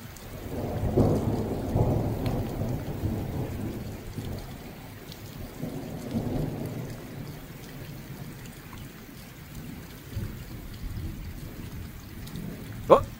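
An August thunderstorm rolls through, with low thunder rumbling in long swells under steady rain, and a sharper sound at the very end.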